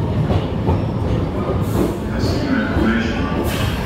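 A passenger train rolls along with steady rumbling and rhythmic wheel clatter close by, while faint voices talk underneath.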